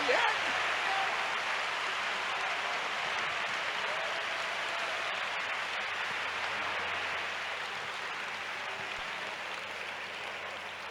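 A church congregation applauds for the Lord during a sermon, a dense, sustained clapping that fills the room loudly at first and slowly tapers over about ten seconds.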